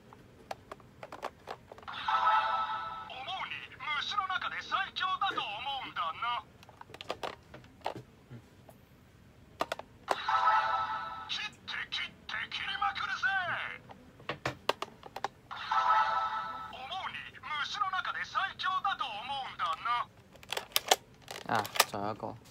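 A Kamen Rider Revice mantis stamp toy is played through a phone speaker, giving three long bursts of electronic voice and music effects. Sharp plastic clicks fall in the gaps between the bursts.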